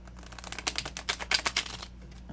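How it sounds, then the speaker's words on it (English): Rapid riffling of a deck of tarot cards being shuffled, a quick flurry of papery flutters close by, then a brief pause. "I'm going to give this one a wake-up shuffle."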